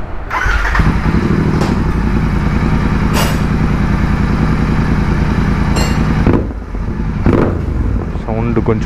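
A Royal Enfield Continental GT 650 twin fitted with a new air filter cranks and fires into a loud, steady idle close by, running continuously before a brief dip and a couple of throttle blips near the end.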